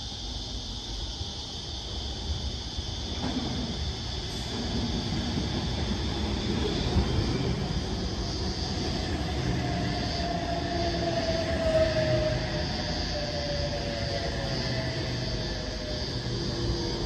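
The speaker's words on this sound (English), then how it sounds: "The next train to arrive on platform 2 goes to Port Kembla" An electric passenger train on the Port Kembla line arriving at a platform rumbles steadily alongside, with a faint high wheel squeal rising and fading and a constant electric whine overhead.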